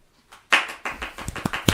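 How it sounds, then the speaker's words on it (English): A small group claps in congratulation: scattered, uneven applause that rises after a quiet start, with sharp individual hand claps standing out toward the end. "Mike, I don't see you clapping"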